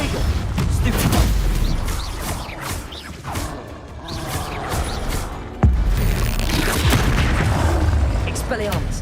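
Confringo spell blasts in the video game Hogwarts Legacy go off as repeated booming explosions with whooshing bursts, one sharp heavy hit standing out midway, under continuous spoken spell casting.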